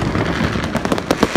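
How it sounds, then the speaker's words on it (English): Firecrackers going off near parked bikes during a Dutch New Year's Eve street celebration, a quick run of sharp cracks and pops close by, stacking up toward the end. "someone's lighting up the firecracker near the bikes"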